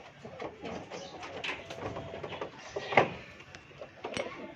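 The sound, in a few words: birds cooing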